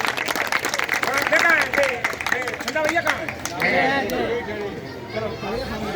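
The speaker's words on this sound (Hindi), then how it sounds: "आप सभी लोग जोरदार तालियों के साथ उनका स्वागत करेंगे।" An audience at a Holi song honouring ceremony claps in scattered bursts to welcome honorees, the sharp claps mixed under steady talking and chatter from people and children nearby.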